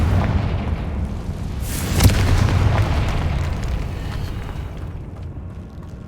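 Booming spell blast from Confringo in Hogwarts Legacy, a loud low rumbling explosion that swells near two seconds with a sharp crack, then a long decaying roar rolling on through the rest.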